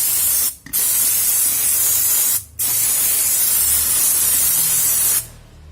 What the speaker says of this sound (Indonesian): prosesnya tinggal kita semprot aja